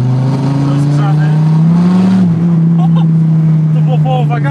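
A 1971 Dodge Challenger fitted with a Hellcat engine revs at half throttle, a loud, deep, steady engine roar close by that rises slightly and then settles, with voices talking over it.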